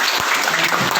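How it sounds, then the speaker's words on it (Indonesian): Audience applause at a new-student welcome ceremony of a Christian theological college in Nabire, Papua: a brief, dense, steady burst of many hands clapping, filling the moment without speech. "Tepuk tangan"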